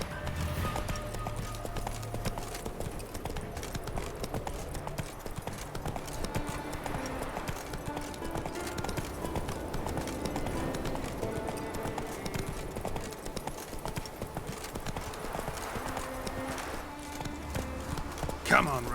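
Hooves of the horse Roach gallop in The Witcher 3, a steady rapid clip-clop that runs throughout under a speaking voice and in-game music.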